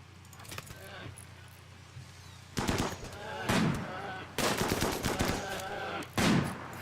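Bursts of video game gunfire crack out in several loud volleys, each a broad, sharp burst lasting about a second, with a voice talking quietly in between.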